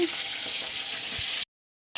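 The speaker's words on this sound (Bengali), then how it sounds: "এদিকে মাছ ভাজাও বসিয়ে দিয়েছি" Fish frying in a pan on a home kitchen stove gives a steady, close, bright sizzle with faint crackle for about a second and a half, then it cuts off abruptly into silence.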